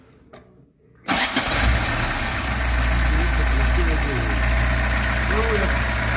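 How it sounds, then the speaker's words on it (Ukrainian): A ZAZ Zaporozhets engine fitted with a Solex carburetor cranks briefly after a moment of quiet, then catches and settles into a loud, steady, slightly knocking idle close by, with voices in the background. "Запускайте двигун."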